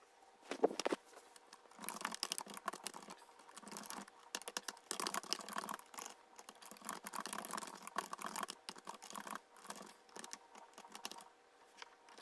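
Someone types on a computer keyboard in irregular bursts of clicking keystrokes with short pauses between runs, close and fairly quiet, with no voices.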